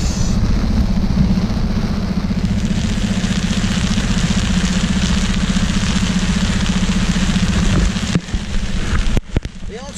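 Aboard a sailboat in heavy rain, a motor hums steadily at low pitch beneath a constant hiss of rain, with a few knocks and bumps near the end.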